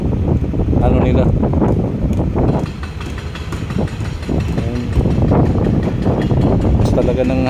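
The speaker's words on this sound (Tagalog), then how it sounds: "Talaga ng hangin no?" Strong wind buffets the microphone at a construction site near the new Manila International Airport, a steady loud roar and rumble with a voice talking over it throughout.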